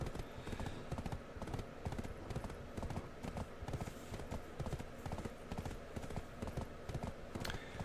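Horse hooves clip-clop in steady, continuous rhythm throughout Black Desert Online, close and clear, with faint talk beneath.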